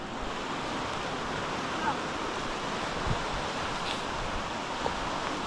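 Fast-moving river water runs high with the current, a dense, steady rushing roar close by that fills the whole stretch without pause.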